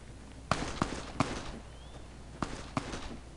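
Gunshots in the video game Fallout New Vegas crack out in a sparse, irregular string of about six sharp reports, moderately distant and fairly quiet, with brief silences between them.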